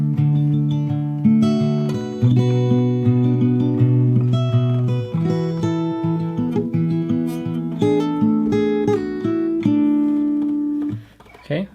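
Fingerstyle acoustic guitar playing a section of a song: a steady stream of plucked notes over ringing bass strings, close and clear, with no voices, fading at the end.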